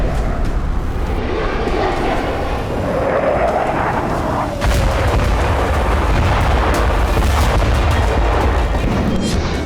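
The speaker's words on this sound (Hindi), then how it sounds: "बम, गोला, मिसाइलें और रॉकेट लॉन्चर से ताबड़तोड़ प्रहार हो रहे हैं।" Heavy wartime bombardment in Ukraine, with bombs, shells, missiles and rocket launchers, comes through as a continuous loud rumble of explosions and artillery fire, with a deeper boom surging partway through and staying dense to the end.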